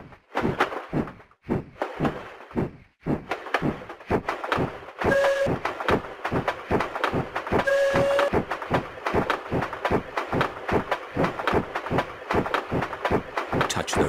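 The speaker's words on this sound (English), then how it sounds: "Turn the wheel to make the train go faster." Train rolling along in a Peppa Pig iOS video game, a steady rhythmic clacking of wheels over rail joints with brief tonal whistle-like beeps partway through, moderately loud and without talk.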